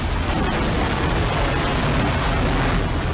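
A Pinaka multi-barrel rocket launcher fires, producing a continuous loud, dense roar of rocket exhaust that stays level throughout with no talking.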